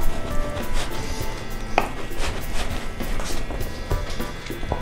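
Knife sawing through a loaf of bread for garlic bread, a close, loud, continuous crunchy rasping of strokes with a few sharper knocks on the board.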